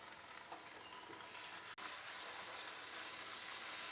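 Jackfruit halwa is stirred and sautéed in oil in a pan, giving a steady close sizzle with a brief break midway before the frying resumes louder.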